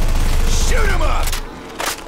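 Gunfire from a shooter video game: a loud burst of rapid shots with mechanical clatter, fading out partway through, then a brief sharp report near the end.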